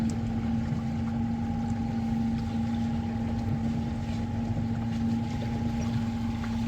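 An electric boat motors across open water with a steady humming whine and a broad wash of water and wind noise, the tone holding constant and loud throughout.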